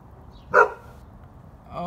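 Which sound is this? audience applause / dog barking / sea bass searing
dog barking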